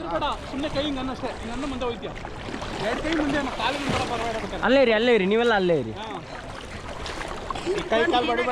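A boat on the water moves close to people waiting to board, with gentle splashing and motor-like hum running beneath loud, overlapping nearby voices calling out throughout.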